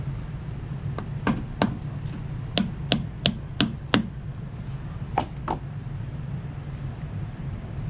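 A hammer taps a wooden dowel into the heel of a shoe during a rubber top sole repair: sharp, close strikes, a pair of quick taps, then a run of five evenly spaced ones and two more after a pause, over a low steady hum.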